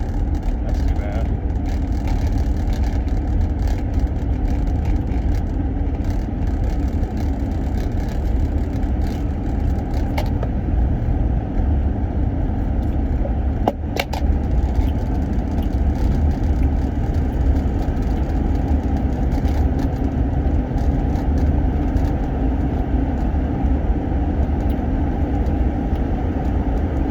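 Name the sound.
vehicle driving on the road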